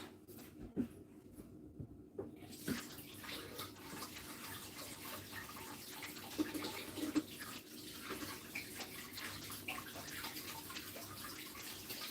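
Aloe vera leaf washed under a running tap, a continuous quiet splash and hiss of water with small irregular knocks and handling sounds, close by.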